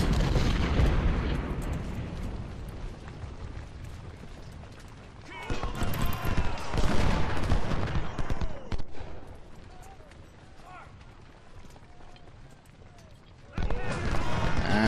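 Cannon and artillery fire in the Civil War strategy game Ultimate General, set at the Second Battle of Bull Run: heavy rumbling booms and crackling volleys roll in waves, swelling loud, easing off, then surging again.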